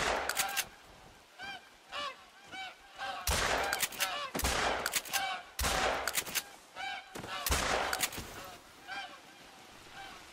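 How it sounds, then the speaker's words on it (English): Repeated Canada goose honking from a goose call in theHunter: Call of the Wild, loud bursts of calls in irregular clusters throughout, with sharp gunshot-like cracks mixed in. "Let's get out that old Canadian goose call and call in some more geese."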